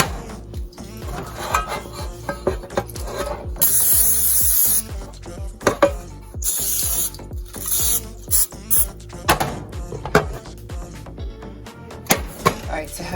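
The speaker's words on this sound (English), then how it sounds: "It's now time to spray our loaf pan with some cooking spray." Cooking spray hisses into a loaf pan in short bursts, with a longer spray in the middle, among clatters and scrapes of kitchen handling.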